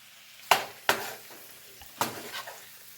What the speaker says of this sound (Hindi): ये टमाटो प्यूरी है, ये हम डाल देंगे।